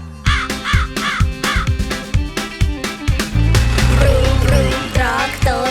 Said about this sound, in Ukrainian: Вірно, це ворона.